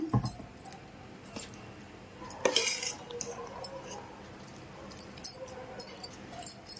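Spoon mixing curd into cooked rice, with scattered clinks and scrapes against a steel vessel and one louder clatter midway, in an otherwise quiet room.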